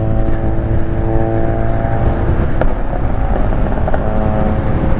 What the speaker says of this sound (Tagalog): May naririnig akong tambucho.